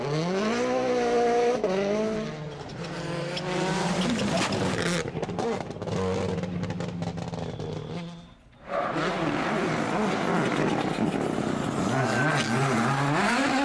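WRC rally cars at the 2023 Croatia Rally, loud engines revving hard through gear changes with rising and falling pitch, a brief drop to near silence, then another car roaring past close by.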